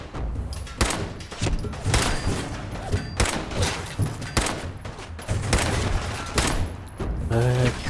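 Enemies open fire in Fallout 4, loud shots and bursts cracking repeatedly in irregular clusters, some near and heavy, with someone talking between them.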